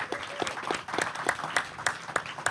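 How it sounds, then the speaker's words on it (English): A film screening audience gives a round of applause, a faint, fairly sparse patter of individual claps heard from a distance for a few seconds. "I think they all deserve a round of applause."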